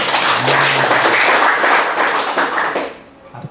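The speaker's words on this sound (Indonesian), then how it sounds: "Tepuk tangan dulu." Applause from an audience at a university gathering in Sorong, dense clapping filling the hall at full strength and then thinning out toward the end, with a voice faintly underneath.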